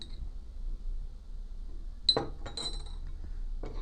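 A spoon clinks against a glass while borax water is stirred into homemade slime, a few sharp bright taps clustered in the second half over a quiet background.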